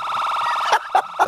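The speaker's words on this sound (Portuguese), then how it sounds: "tem que tocar a sirene aí, rapaziada" Electronic siren wailing in a fast, steady warble, loud and close, then breaking into three short bursts.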